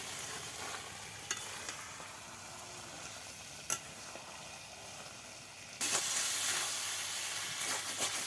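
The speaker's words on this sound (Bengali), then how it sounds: "কচু আর বেগুনগুলোকে সুন্দর করে কষিয়ে নিচ্ছি" Taro and eggplant are sautéed in a pan, producing a continuous soft sizzle with occasional light scrapes, then a louder, brighter hiss of frying swells in about two-thirds of the way through.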